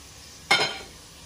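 A pork loin roast flipped in a hot pan lets out a sudden burst of sizzling that quickly fades back to a low, steady hiss, close by with no talking.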